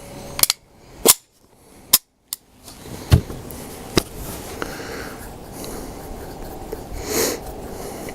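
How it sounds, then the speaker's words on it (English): Sharp, loud pistol shots from a CZ75 SP01 Shadow loaded with Berry's bullets crack out at irregular intervals, about six reports with short ringing decays, close by in an outdoor range. "I guess shooting high is just going to be the story with this gun"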